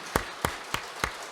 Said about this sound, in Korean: 자, 우리 환영의 박수 하겠습니다